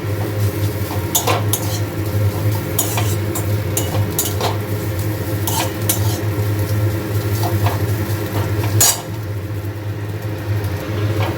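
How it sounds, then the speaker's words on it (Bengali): Oats being stirred and fried in a pan, with steady metallic scraping and clinks of a utensil against the pan over a continuous low sizzle, close and fairly loud throughout, without talk. "তো এটা ভাজা ভাজা মতন হয়ে এসেছে"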